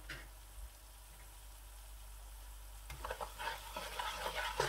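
Spices being stirred and mixed in a kadahi while kebab fries, a low quiet sizzle that turns into a busier burst of stirring and crackling in the second half, close and with no voices.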